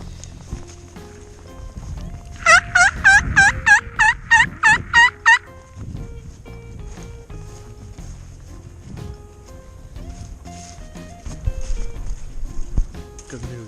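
Wild turkey gobbling: a loud burst of about eight quick rattling gobble notes close by, followed by quieter outdoor rustling and footsteps.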